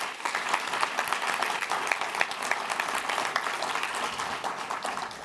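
An audience at a community event gives a big round of applause for an honoree, a dense, steady wash of many hands clapping close by, holding at an even level throughout.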